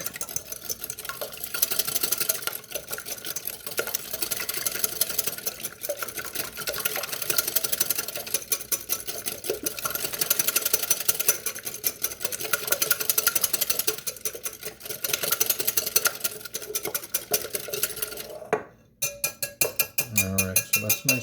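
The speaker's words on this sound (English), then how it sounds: "we're going to whisk this. Break up the yolks and" Egg yolks for carbonara are whisked briskly in a bowl, a fast continuous metallic rattle that runs steadily for about eighteen seconds, then breaks off into a few scattered knocks and scrapes.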